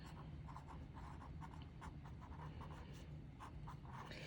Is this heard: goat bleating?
no